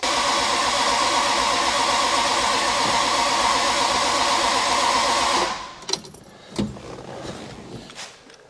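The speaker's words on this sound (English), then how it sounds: "We'll start it up, we'll get some heat into the motor" A car engine warms up after carburetor tuning, idling loudly and steadily with a dense roar for about five seconds. Then it cuts out, leaving a few sharp clanks and knocks in a quiet garage.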